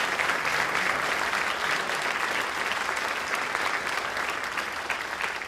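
Sustained audience applause fills a jazz band concert hall, a dense, steady wash of many hands clapping that continues without a break and eases slightly toward the end.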